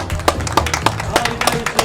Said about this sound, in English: Round of applause for the best motorbike.